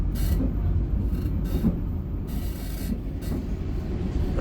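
Riding aboard a luxury Imperial passenger train on a Jogja–Jakarta service, steady loud rumbling rolls throughout with rhythmic wheel clatter over rail joints.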